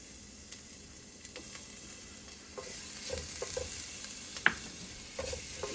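Garlic frying in a pan for menudo, a soft steady sizzle that swells in the second half, with scattered scrapes and clicks of a utensil stirring near the pan.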